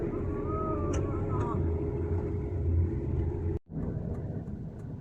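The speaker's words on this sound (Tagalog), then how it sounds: "Grabe traffic guys" Heavy road traffic rumbles steadily in a congested street, with low engine drone and passing vehicle noise close by, briefly cut off before resuming, while a voice talks over it.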